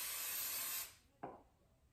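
A spray bottle misting a quilt during basting: one long, soft hissing spritz that fades out, then a second short puff of spray, close and quiet with no talk.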